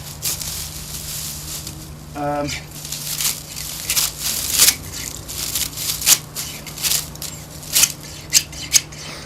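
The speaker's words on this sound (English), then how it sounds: "just a little snip with the shears just makes it easier to use" Shears snip thatching straw for a cottage re-thatch, giving a series of short crisp cuts and rustles at an irregular pace, close by, with a voice talking over them.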